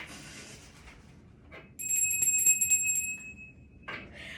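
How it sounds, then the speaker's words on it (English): A bell is rung once, its clear ringing tone holding for about a second before fading, with a few quiet taps and rustles around it. "I have to ring the bell"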